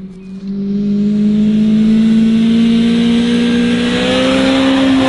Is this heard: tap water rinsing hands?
no